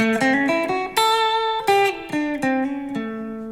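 A short bluesy guitar lick in A: a handful of clean plucked notes and bends, ringing clearly and close, played alone with no talking.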